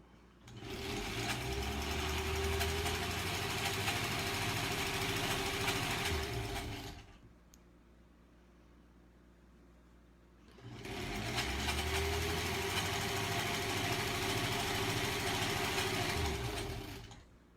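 A sewing machine stitches quilt blocks in two long continuous runs, a steady whirring hum that stops for a few seconds of quiet in between.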